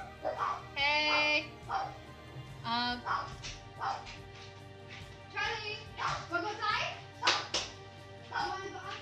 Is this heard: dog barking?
yes